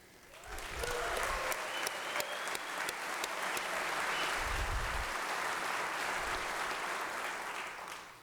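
Sustained audience applause fills a large hall at the 2019 Oklahoma State of the State Address as Lieutenant Governor Matt Pinnell is recognized. The dense crowd clapping rises quickly and holds steady for about seven seconds before easing off.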